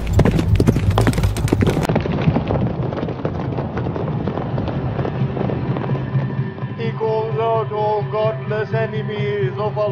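Hooves of a warhorse spurred into a gallop in a film battle scene, a dense rapid clip-clop rhythm thundering loudly at first, then easing under swelling music and a rumbling backdrop.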